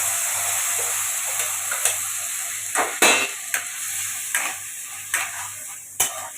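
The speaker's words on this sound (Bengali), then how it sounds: "এবার আমি এর মধ্যে পেঁয়াজ কুচি, টমেটো কুচিগুলো একটু ভাজা ভাজা করে নেব" Chopped onion and tomato sizzle steadily in butter in a hot pan while a utensil stirs and scrapes at intervals, a few sharper clacks standing out over the constant frying hiss.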